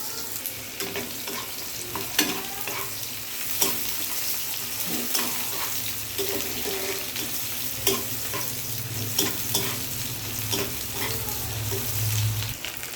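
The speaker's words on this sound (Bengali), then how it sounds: "এবার পেঁয়াজটাকে আমি সুন্দর লাল লাল করে ভেজে নেব।" Chopped onion fries with cumin seeds in a pan for a fish curry, a close, steady sizzle broken by repeated stirring scrapes and small spatters. A low hum sits faintly underneath.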